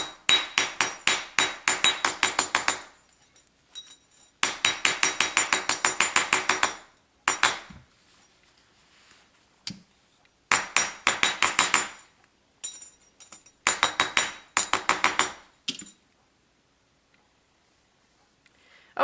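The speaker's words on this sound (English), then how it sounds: "I'm just going to give this a little bit of a hammer just to straighten everything out." A small hammer taps on a wire pendant to straighten it, quick rapid bursts of sharp metallic strikes in clusters of a dozen or more, separated by short pauses, close and crisp with no talk.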